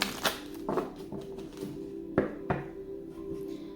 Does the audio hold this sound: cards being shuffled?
yes